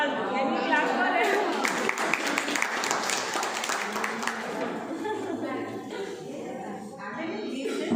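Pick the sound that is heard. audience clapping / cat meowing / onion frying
audience clapping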